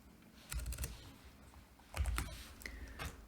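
Typing on a computer keyboard, two quiet bursts of quick key clicks close to the microphone, separated by a short pause, with no talking.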